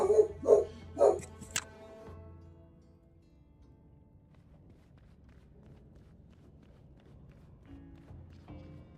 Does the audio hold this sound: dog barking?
yes